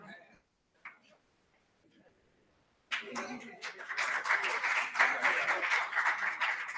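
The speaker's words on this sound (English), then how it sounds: "I want you to give yourself 2 claps and a Ric Flair" Students at a convocation give a burst of clapping that swells into loud, ragged applause mixed with cheering voices. It follows a few faint isolated claps and near silence.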